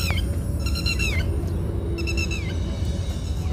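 A red-wattled lapwing gives two bursts of sharp, repeated calls in a park in Dubai, heard over a low steady background rumble.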